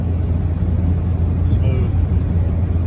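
Inside a Citroen DS 21 Pallas cruising at about 55 mph: a steady low road and engine rumble with smooth wind hiss, calm and even throughout, with a faint brief whistle partway through.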